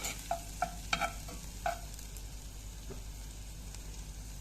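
Soft steady sizzling of two garlic cloves frying in oil, with a few sharp clinks of a utensil stirring near the start, quiet and close.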